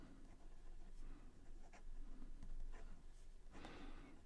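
A fountain pen writes upside down across paper, making a faint dry scratching with a few short strokes and a slightly longer scrape near the end, very close and quiet, with no talking.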